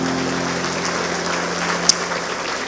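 A church congregation claps together in a steady, dense patter of applause with a low sustained hum beneath, one sharper clap standing out near the end.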